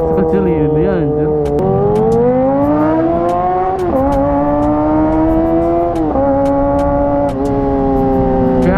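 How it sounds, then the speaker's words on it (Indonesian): A Kawasaki ZX25RR motorcycle with a loud, noisy exhaust, its engine holding a high, buzzing tone that climbs and shifts with revs, close-up and loud throughout. "Karena knalpotnya ribut banget."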